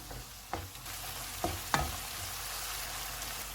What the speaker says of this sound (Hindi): चूल्हे को लो टू मीडियम कर देते हैं और इसको 2 से 3 मिनट तक भूनेंगे।